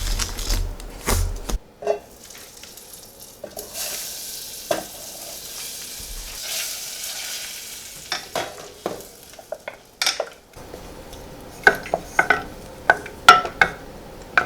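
A baking mixture is stirred in a bowl with a makeshift utensil instead of a spatula, giving scattered scraping and clinking taps, fairly faint and uneven, with busier knocks toward the end.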